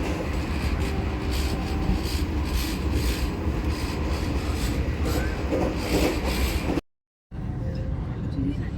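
A Vande Bharat Express on the Bangalore–Dharwad route runs toward Davangere station, heard as a loud, continuous rumble and rattle with rubbing, rhythmic wheel noise. It cuts out briefly near the end before the rumble resumes.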